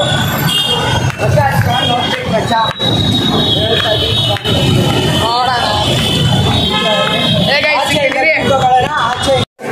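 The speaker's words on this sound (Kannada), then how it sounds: "full traffic guys full traffic" Dense road noise with engines rumbling, occasional horn toots and a high squeal, people talking over it throughout.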